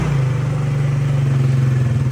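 A cheap, cold quad ATV engine idles close by with a steady, loud, pulsing low putter and no talk.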